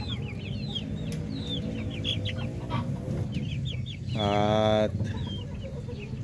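Native Pinoy chickens, more than two months old, cluck and chirp in a backyard farm, with repeated close calls, one longer loud squawk midway and a brief voice.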